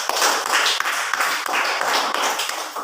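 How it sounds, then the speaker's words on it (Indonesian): A class of school students gives a group presentation a round of applause, loud, close and continuous clapping that pulses slightly for a few seconds. "Kasih tepuk tangan untuk kelompok 2."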